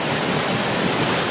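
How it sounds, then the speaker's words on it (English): Water pours out of Lake Manitouwabing beneath the bridge at Tait's Landing, a loud, broad, continuous rushing roar with no gaps or voices. "you can just get an idea of how much water is just flowing right now."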